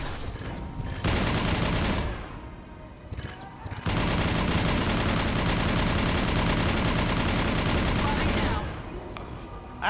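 Dense automatic gunfire and overlapping shots in the video game Mass Effect Legendary Edition 2, loud and close. Shots come in brief bursts early on, then become sustained fire for most of the clip.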